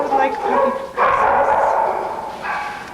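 A young shelter puppy up for adoption gives a few close yips and barks that blend with people talking nearby.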